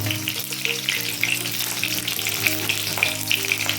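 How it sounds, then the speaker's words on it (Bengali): A fish head deep-frying in a pan of hot oil, a steady close, loud sizzle with stirring scrapes over it, heard alone without voices. "মাছের মাথাটা আমি ভালো করে কড়া করে ভেজে নেব।"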